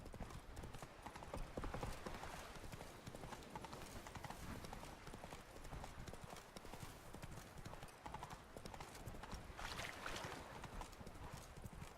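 Roach, Geralt's horse in The Witcher 3: Blood and Wine, wearing horned armor, trots with a steady stream of clip-clopping hoofbeats, continuous and even, mixed with game ambience.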